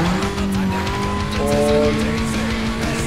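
A slow car takes a bend on a circuit in Need for Speed Most Wanted (2005), engine droning loudly and tires squealing in a sustained skid through the curve, with no talk.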